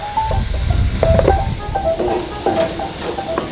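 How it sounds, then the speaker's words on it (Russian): Onion and carrot pieces, cut fairly large, crackle and sizzle in hot oil while a utensil stirs and scrapes the pan, close and continuous. "Отправляем обжариваться лук."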